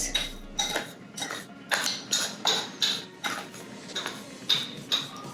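Sugar lip scrub stirred in a bowl, a run of repeated sharp clinks and scrapes of a utensil against the dish in a quick, uneven rhythm, close and fairly quiet.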